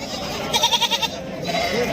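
A goat bleats in a short series of wavering, pulsing cries at close range at a goat and sheep market in Sangola, with murmured voices and background around it.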